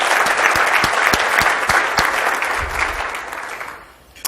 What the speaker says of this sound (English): please help me thank them with our applause